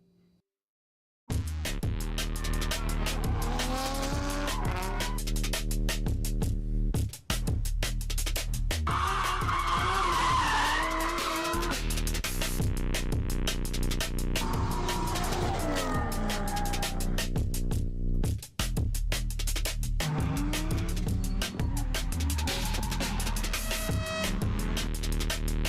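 Drift cars at a drift event in the Pacific Northwest skid and squeal their tires continuously, with loud engine roar and long sustained tire screeches running nearly the whole time after a short quiet start.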